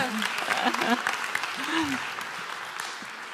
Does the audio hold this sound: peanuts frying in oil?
no